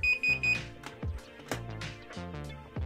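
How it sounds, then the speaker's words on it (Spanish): An infrared-remote alarm circuit's buzzer beeps twice in short electronic tones as it is disarmed, followed by a scatter of clicks and knocks from handling the device. "Si aprieto el botón verde va a sonar dos veces el buzzer"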